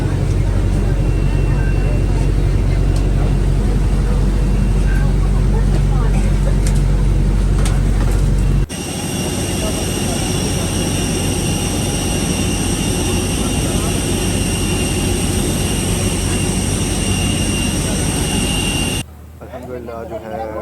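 Steady, loud engine drone fills the cabin of a fully booked passenger airplane, with the tone shifting partway through and dropping away near the end; someone talks over it.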